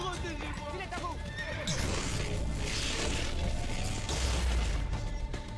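A horse neighs in Assassin's Creed Brotherhood amid galloping hoofbeats and chaotic battle clatter against Borgia soldiers, loud and close, with a voice talking over the commotion.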